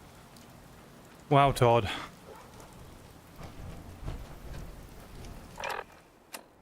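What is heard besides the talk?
rain falling in the video game Fallout 4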